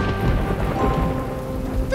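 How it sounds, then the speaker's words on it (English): Heavy rain pouring in a cartoon thunderstorm, a dense continuous hiss with low rumbling underneath, steady and loud throughout. "The rain is so heavy, Lulu."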